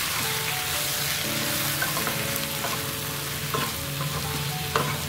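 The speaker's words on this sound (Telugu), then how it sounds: "1/2 టీ స్పూన్ అంత పసుపు వేసుకొని మనం బాగా మిక్స్ చేసుకుందాము" Brinjal pieces stirred with salt and turmeric in a hot pan, a steady close sizzle with scraping spoon strokes and soft clatters, no voices.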